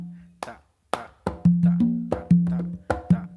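Hand drums on congas sound a guaguanco figure in rumba clave, starting with a few spaced strikes and then tightening into a dense run of ringing tones and slaps, close and unaccompanied.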